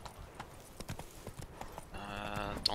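Horse hooves clip-clopping in The Witcher 3 video game, a quiet rhythmic run of hoofbeats joined near the end by a tonal game sound.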